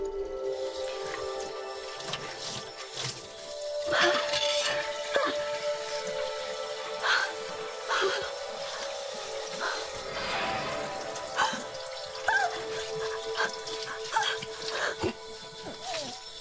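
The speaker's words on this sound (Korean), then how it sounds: "갑자기 주방에서 요란하게 막 설거지하는 소리가 들리더래요" Dishes are washed in a kitchen, with running water, drips and scattered clinks of utensils going on steadily at moderate distance, fairly faint and without voices.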